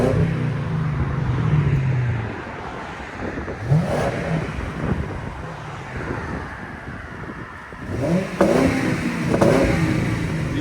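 A 2004 Lincoln Town Car with a 4.6L V8 and Flowmaster Flow FX exhaust revs up close, its deep rumble idling between two sharp throttle blips and a longer late burst, with some wind buffeting the mic.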